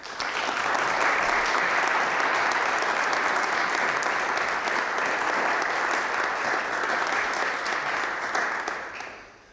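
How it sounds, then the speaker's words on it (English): A large audience at a lecture event on Jesuit history claps in a long, full round of applause that holds steady for most of nine seconds before tapering off at the end. "Let's give Father Flowers one more round of applause"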